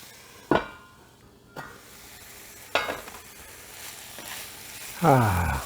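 A pot lid clanks down onto a pot of sizzling rehydrating freeze-dried beef tri tip, with several sharp metallic knocks and clatters over a soft frying hiss and a final ringing clang.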